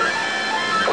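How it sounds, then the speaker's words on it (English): A 3D printer finishing a short build gives off a steady, close mechanical whir with tonal motor hums throughout, and a slight shift in the sound near the end. "This 3D printer is just finishing a build right now that was very short."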